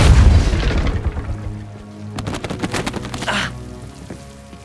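A Depulso force spell cast in Hogwarts Legacy, a loud booming burst with a crackling rain-like spray that fades into scattered pops and rumbling game effects, with no talking.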